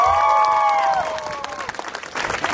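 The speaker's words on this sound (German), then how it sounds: "Einmal ganz großen Applaus" Crowd applause follows a K-pop performance at the Kieler Woche festival, opening loud with a brief voice over it, then thinning and fading within a couple of seconds.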